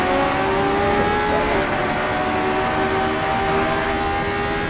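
A 1979 Formula One race car driven in Assetto Corsa at Kyalami, its high engine note holding a sustained, whining tone with slight pitch shifts, loud and continuous throughout.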